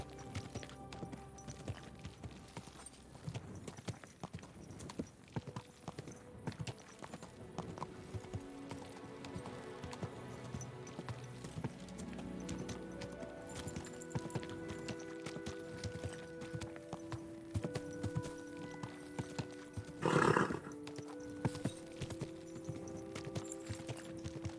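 Horse hooves clip-clopping in Kingdom Come Deliverance 2, a steady rhythmic trot of hoofbeats under game music, with a louder burst of noise near the end.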